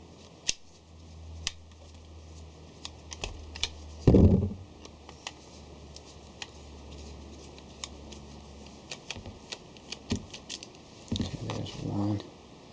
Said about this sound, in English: I'm going to remove these screws from the front